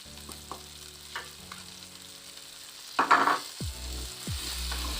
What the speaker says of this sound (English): And after adding, kama kawaida, again you mix or you stir.